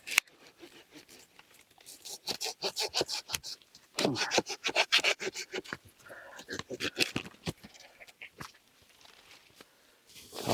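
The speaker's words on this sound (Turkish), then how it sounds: "Şu testereyle şu kalınları bir alalım da ondan sonra devam edelim." Close hand-saw strokes rasping through thick tree branches while pruning a pomegranate tree, in uneven bursts, with short pauses between runs of cutting.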